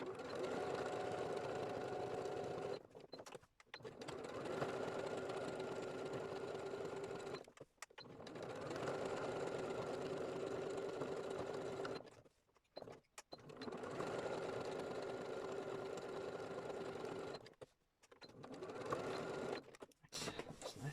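A sewing machine runs a zigzag stitch through fabric in steady bursts of about four seconds, with short pauses between runs, close and fairly loud, a steady mechanical hum with no talking.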